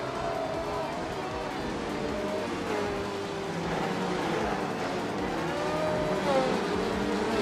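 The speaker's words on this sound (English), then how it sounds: "the race kicks off at Baskerville and Wayne Gretzky is leading the pack on pole, cruising in a classic 1975 McLaren M23" Classic 1975 McLaren M23 race cars roar steadily at a race start at Baskerville, engines droning and revving continuously close by with rising pitch sweeps, under a commentator's voice.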